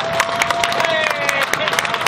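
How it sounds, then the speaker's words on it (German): A big round of applause at an outdoor peace vigil in Vienna, dense crowd clapping with cheers mixed in, loud and continuous throughout. "Bitte noch einmal einen riesen Applaus."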